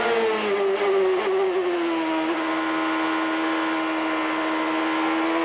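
A CART open-wheel race car engine at the 1998 Rio round, heard onboard after a tight corner with a sustained high-pitched drone that sweeps down and then holds steady and loud, with no voices.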